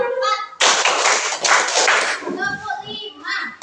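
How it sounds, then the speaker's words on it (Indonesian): Children in a classroom clap their hands together in short bursts, with excited kids' voices and chatter mixed in and over the claps, fairly close and loud. "Coba sekarang berdiri, kita tepuk lagi."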